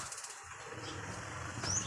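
Pigeon wings flap softly in a brief flurry, with a faint fluttering rush over quiet outdoor background noise.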